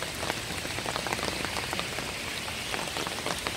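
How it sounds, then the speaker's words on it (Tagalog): Steady rain pours down during a morning walk, a dense, even hiss of drops pattering on surfaces, continuous throughout with no voices. "Hindi na tumigil ang ulan."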